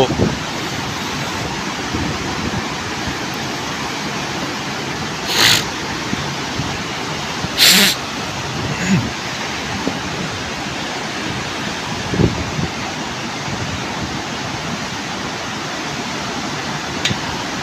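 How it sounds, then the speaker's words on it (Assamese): Floodwater gushes from the gates of the Subansiri hydroelectric dam, a continuous broad roar of rushing water buffeted by wind on the microphone, with a few brief louder gusts. "তাৰ দুটাৰ পৰাই কেনেকৈ পানী ওলাই আহিছে চাই ল'ব পাৰে আপোনালোকে"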